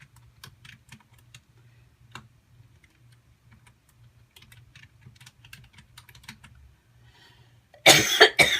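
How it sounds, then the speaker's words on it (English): Soft, irregular clicks of a computer keyboard being typed on over a low hum, ending with a sudden loud burst of noise. "I'm going to finish the typing first."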